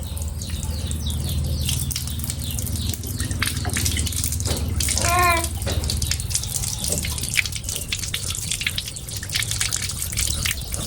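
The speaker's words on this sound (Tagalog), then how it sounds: "Nandito yung tubig namin." Water running from a tap at a rural Philippine home as small children wash their hands, a steady splashing trickle with drips, while a brief whistle-like chirp rises over it midway.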